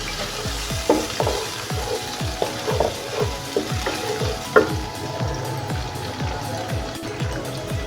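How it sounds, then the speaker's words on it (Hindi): Tomatoes and onions for a chicken and cauliflower masala being sautéed in a pan over medium heat, with a steady sizzle broken by a rhythmic series of scraping stirs, close and moderately loud. "अब इसको थोड़ी देर भूनते हैं।"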